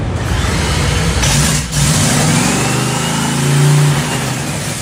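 A Top Fuel dragster engine idles loud and close as the car rolls up to the line for a semifinal race, a rough, steady rumble with a brief dip midway.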